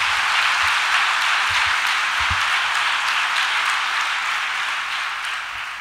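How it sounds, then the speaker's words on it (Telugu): A church congregation at a Sunday service claps together, a dense, steady wash of many hands that fills the room and fades slightly at the end, with no talk over it. "సంతోషంగా ఉన్న వాళ్ళందరూ చప్పట్లు కొట్టి దేవుని నామాన్ని మహిమపడదాం."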